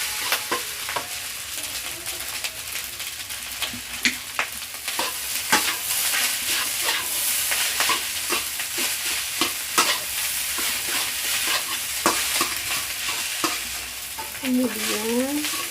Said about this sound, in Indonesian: kita masukkan saus tiram, aduk lagi.